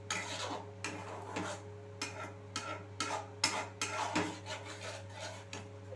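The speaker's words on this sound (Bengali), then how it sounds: "এই মিশ্রণটা দিয়ে খুব ভালোভাবে আমি আরও কিছুক্ষণ মিশিয়ে নিচ্ছি" A spoon scrapes and stirs a paneer hariyali masala mixture in a pan in repeated rasping strokes, close and fairly quiet over a steady low hum, with no talking.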